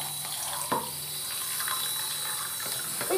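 Water runs steadily from a shower while a dog is bathed, a continuous hiss with a few soft splashes and clunks along the way.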